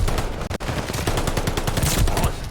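Rapid automatic gunfire from Call of Duty: Modern Warfare II rattles in a dense, loud, continuous burst of close shots with a brief gap near the start, part of a varsity esports playoff match.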